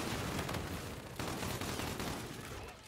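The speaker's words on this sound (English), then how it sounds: "Like machine gun." Sustained machine gun fire in the shooter Infinite Warfare, a loud, dense rattle of rapid shots running for about three seconds with a brief dip midway.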